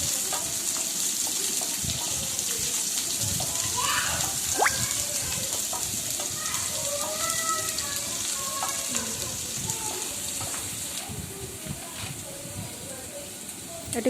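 Chopped onions sizzle and fry steadily in a pan for a chana dal dish, a continuous close crackle with faint stirring and intermittent voices over it.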